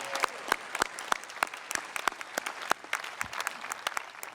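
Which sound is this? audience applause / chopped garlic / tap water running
audience applause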